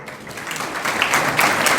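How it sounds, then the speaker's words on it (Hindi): A crowd claps at a Hindi political speech, a steady wash of applause that swells slightly louder toward the end, with no voice over it. "और ताली बजाओ मत"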